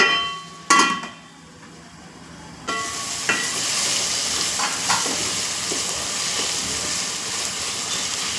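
Tomato pieces cook in a covered pan for chicken fry piece biryani, a steady broadband sizzle and bubbling hiss after a couple of sharp clanks as the lid goes on, continuing evenly with small clicks throughout.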